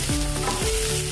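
Semolina breakfast frying in a pan with chopped coriander stirred in, a constant close sizzle broken by two quick scraping strokes of a spoon, with no talking.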